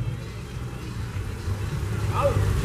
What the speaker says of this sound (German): BMW Alpina. BMW. Ein Cabrio.